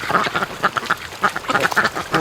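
Muscovy ducks at a lake, a male forcing a female under the water: rapid raspy quacks and splashy bursts in an irregular run, close and loud with no talk.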